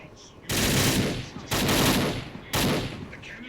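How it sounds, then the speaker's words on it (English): Three loud bursts of musket gunfire from a Fallout 4 mod, each a roughly second-long rolling blast followed by a decaying tail, evenly spaced. "Kill them only as a last resort. A few warning shots."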